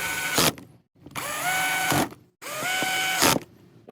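Power screwdriver whirring in three separate bursts as screws are driven into a metal gear cap, each burst rising in pitch and tightening, with brief clicks between them; close and fairly loud, no talking.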